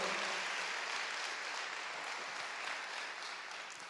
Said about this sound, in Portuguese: Dê forte esse aplauso ao Rei. Dê mais forte esse aplauso